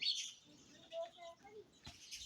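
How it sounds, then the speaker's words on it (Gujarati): Sparrows chirp around a water bowl set out for birds, small bright calls coming in short scattered bursts, faint and close, with some quiet speech in between. "અહીંયા ચકલી આવી ગઈ અહીંયા ચકલી આવી ગઈ"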